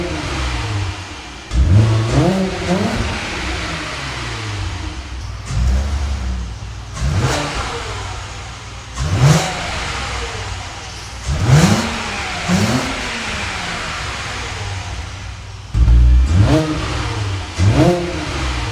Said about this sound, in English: So I guess let's hear some VR6 noises, baby.